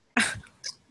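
A single short, sharp sneeze bursts out nearby, followed by a softer brief trailing sound.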